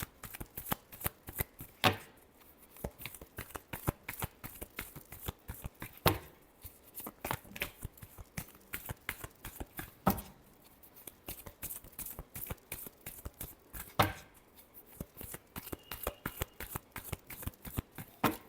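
Tarot cards being shuffled by hand, a long run of quick riffling flutters and soft slaps, close and steady with a few sharper taps, no talk over it.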